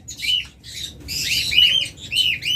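Pet birds squawk from inside a clay pot nest, close and loud, in several bursts of harsh calls and chirps with short pauses between them.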